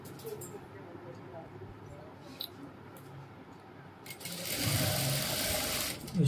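A sewing machine stitches lace onto a cap dress. A quiet, near run starts about two-thirds of the way through and holds steady, with soft handling clicks earlier and low talk beneath.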